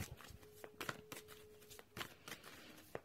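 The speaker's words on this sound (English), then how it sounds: "just give them a bit of a shuffle." Tarot cards being shuffled by hand, a few soft riffling bursts and light flicks close up, fairly quiet with brief pauses between them.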